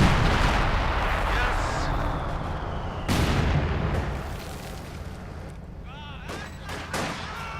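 Panzerwerfer rocket artillery in a Company of Heroes 2 match: loud booming blasts and crackling barrages pile up, with a sharp burst near the middle and whistling rockets later, while a commentator talks over the battle.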